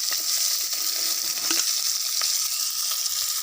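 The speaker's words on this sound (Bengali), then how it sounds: "মাছগুলো ভালো করে ভাজা হয়ে গেছে" Rohu fish frying in hot oil, a steady close, loud sizzle with dense crackling that runs throughout and cuts off abruptly at the end, with no voices.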